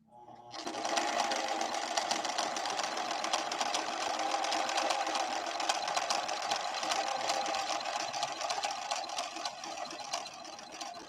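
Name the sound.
Husqvarna Viking 6460 sewing machine sewing a scallop stitch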